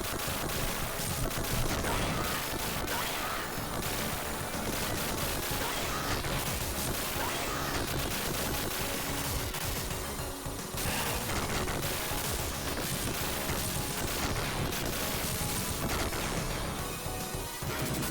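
Dense, continuous bursts of rapid video game gunfire and explosions from Gunstar Heroes fill the whole stretch, loud and unbroken, with game music and effects layered together.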